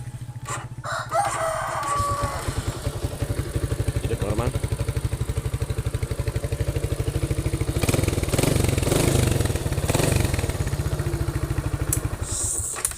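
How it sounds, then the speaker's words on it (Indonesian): A Suzuki motorcycle engine idles after an engine repair with a steady, rapid low thump, while a rooster crows nearby and a voice speaks briefly. "Mesin udah hidup normal"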